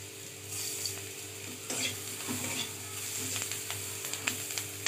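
Turmeric frying in a pan, a low steady sizzle with intermittent spatula scrapes and light clinks of the utensil against the pan, fairly quiet and close.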